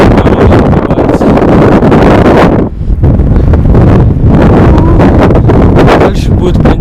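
Strong blizzard wind batters a 75 m cell tower, roaring as heavy, continuous gusts buffet the microphone at close range, with a short lull partway through.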